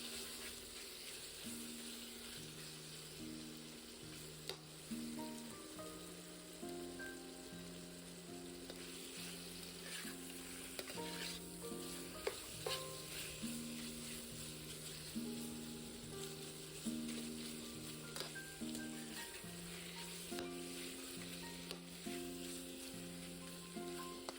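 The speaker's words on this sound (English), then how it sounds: "Add the shoulder meat in. Keep stirring until the meat turns brown." Pork shoulder meat sizzles steadily in a wok as it is stir-fried until brown for Hunan pork, with a constant crackle and faint scraping under soft background music.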